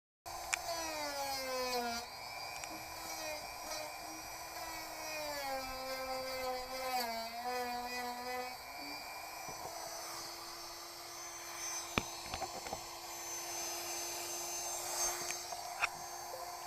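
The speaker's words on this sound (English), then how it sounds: "you're going to want to cut this out with the Dremel and then shave it so it's smooth" A Dremel rotary tool cutting out a plastic opening on a front-mount intake install for a BMW F80 M3, whining steadily at high speed with shifting pitch, loud and close, alone throughout.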